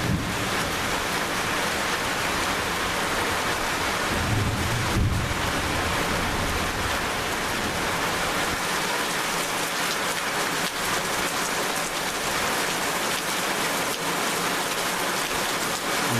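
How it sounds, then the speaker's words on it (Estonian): Heavy rain pours steadily during a July thunderstorm in Simuna, Lääne-Viru County, Estonia, a dense, even hiss of drops on surfaces with no voices. "seda tugevamaks muutus vihmasadu ja välke hakkas ka rohkem esinema."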